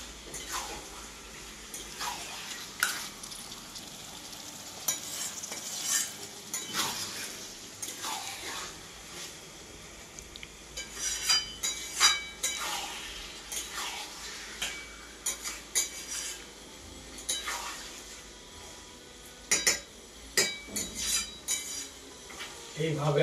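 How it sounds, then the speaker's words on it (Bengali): Duck meat frying in a small wok is stirred with a metal spatula, giving irregular scraping clanks and knocks over a soft, steady sizzle. "এইভাবে আমি কিছুক্ষণ ভালোভাবে ভাজবো।"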